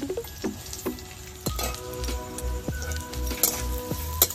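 Sesame seeds, five spoonfuls, tossed into hot oil with fried chopped green chillies, crackling and sizzling up close with sharp clinks and stirring scrapes through a steady fry.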